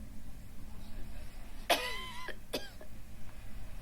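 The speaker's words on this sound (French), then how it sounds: "par contre, elle tousse, hein." A woman coughs twice, faint and close together, over quiet room noise.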